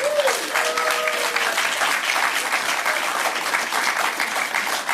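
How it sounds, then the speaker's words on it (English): Steady applause from an awards-night audience honoring the evening's winners at the Nor'Easter Awards, dense clapping filling the room evenly; a brief tonal voice-like sound appears near the start, but no clear speech. "one final applause for all our winners tonight"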